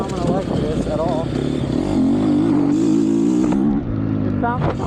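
GasGas MC250F Factory Edition dirt bike engine revving up and down with a rising, snappy pitch, loud and close throughout.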